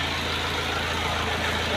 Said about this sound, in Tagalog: yung Toyota Hiace yun, nandun. Ito. Pag kukunti lang kami, ito ang gagamitin namin. Yun ang makina niya guys